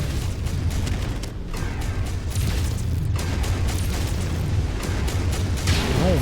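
A mech's ammunition cooks off and explodes in the MechWarrior game during an Annihilator and Ultra Autocannon battle: a loud, continuous booming roar with bursts and rumbling heard alone.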